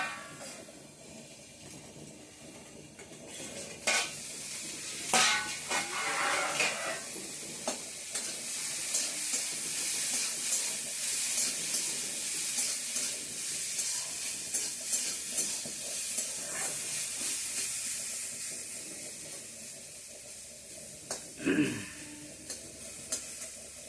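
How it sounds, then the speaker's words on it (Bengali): Fish frying in a pan, a continuous close hiss and sizzle with scattered crackles and occasional clatter of utensils, steady throughout with no clear voices over it. "মাছ ভাজাগুলো তুলে দিচ্ছি কিন্তু।"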